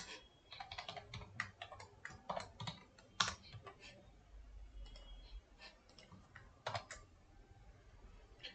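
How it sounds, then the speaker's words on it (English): Typing on a computer keyboard produces quick, irregular key clicks in short bursts with pauses between them, close and fairly quiet. "Whenever I type something here 8"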